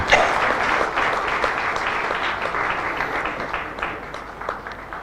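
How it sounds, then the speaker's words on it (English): Steady applause from a conference audience greeting a keynote speaker at a national conclave, dense clapping sustained throughout at even loudness. "Ladies and gentlemen, deserves a round of applause."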